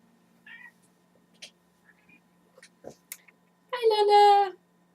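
Pet cat meowing at a bedroom door: a couple of faint short mews early, then a loud, drawn-out meow close by near the end, with small knocks and rustles in between.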